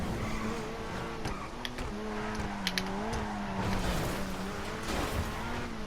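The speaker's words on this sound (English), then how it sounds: "The normal engine sound when you're driving, it's not that good." Grotti Itali RSX hypercar engine in GTA Online, a steady droning hum while driving with shifting pitch, accompanied by brief tire or skid noises, continuous and fairly close.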